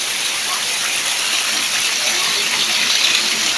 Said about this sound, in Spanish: El agua como brota de aquí,